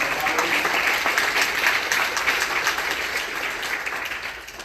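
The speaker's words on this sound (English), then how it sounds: "big round of applause for our panel and the moderator" An audience at an executive roundtable women's leadership panel claps for the panelists and moderator, a full round of applause that holds steady and then thins slightly toward the end.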